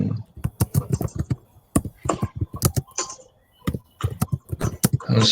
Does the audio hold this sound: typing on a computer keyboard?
yes